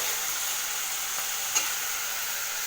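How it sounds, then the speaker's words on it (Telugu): Leafy greens with green chillies being stirred in a pan, a steady soft sizzle and faint scraping running throughout with one brief louder clink near the middle, no voices. "ఇప్పుడు ఇలా ఒకసారి మొత్తము ఆకుకూర అనేది దగ్గరికి అయ్యేంత వరకు ఇలా కలుపుతూ ఉడికించుకోవాలండి"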